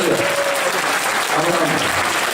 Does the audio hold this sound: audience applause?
yes